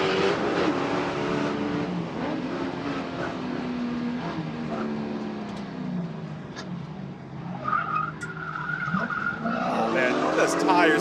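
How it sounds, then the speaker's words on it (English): Spec Corvette race cars at Buttonwillow Raceway Park squeal their tires on track, a loud drawn-out skidding screech over engine roar, with excited commentary talking throughout. "those tires absolutely squealing."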